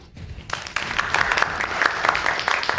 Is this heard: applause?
yes